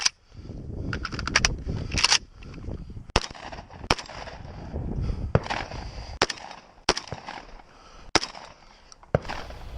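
A Vepr 12 shotgun fires on a close-range multigun match stage, an opening rapid burst of sharp blasts followed by spaced single reports every second or so, loud and close with echoing tails and clattering movement between shots.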